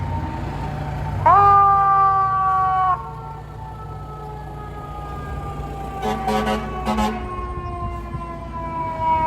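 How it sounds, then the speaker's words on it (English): A fire truck siren wails past on a Soho to West Village street in New York City, one loud rising then falling sweep followed by fainter siren tones and short horn-like blasts amid steady city traffic hum. "This many fire trucks popping up all over the place?"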